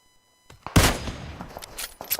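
Gunfire in PUBG Mobile, several sharp close shots in quick succession, the loudest burst early followed by scattered cracks and echoing tails.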